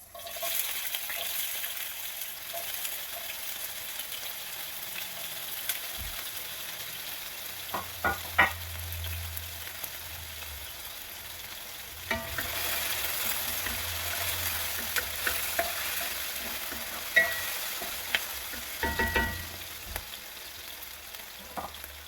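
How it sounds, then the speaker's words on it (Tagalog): Vegetables sautéing in olive oil for low-carb beef broccoli, a steady hiss of frying punctuated by several utensil clacks and stirring scrapes, swelling louder midway, close and with no talking. "Igisa na natin ang ating gulay."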